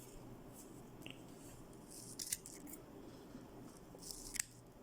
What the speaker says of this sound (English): So what we got to do with these is cut the rhizoids